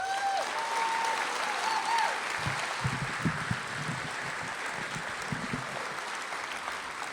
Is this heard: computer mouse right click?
no